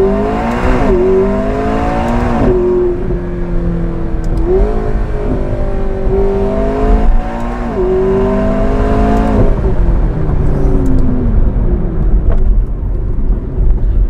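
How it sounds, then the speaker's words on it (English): A McLaren 650S Spider supercar engine revs repeatedly and loudly, climbing and falling in pitch several times with the rear window lowered, close and dominant with no talking. "listen to that and listen to this car and tell me that McLarens sound bad"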